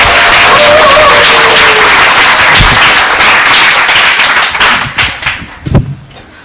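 A church congregation claps loudly together, a dense sustained round of applause that thins into scattered individual claps and fades out near the end.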